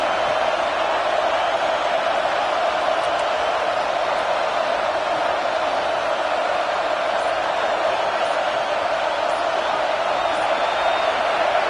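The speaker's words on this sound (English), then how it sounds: "this home crowd is fired up and ready to make a difference today" A home crowd in a football stadium at a Miami versus Oklahoma game makes a steady, distant roar that hangs in the background throughout, with a voice talking over it.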